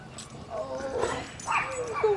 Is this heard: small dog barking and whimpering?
yes